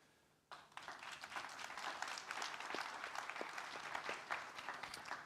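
Audience applause breaks out at the GLOBSEC forum, a sudden start of dense, sustained clapping from a sizable crowd heard at moderate distance, steady to the end.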